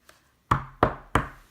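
Knocking at a door: one faint tap, then three firm, evenly spaced knocks, close and clear with no talk.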